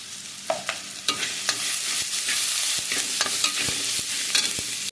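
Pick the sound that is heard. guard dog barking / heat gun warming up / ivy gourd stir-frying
ivy gourd stir-frying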